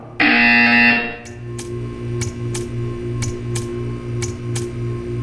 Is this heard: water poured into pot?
no